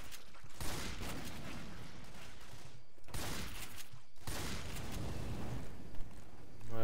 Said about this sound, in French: je vais continuer avec mon lance-roquette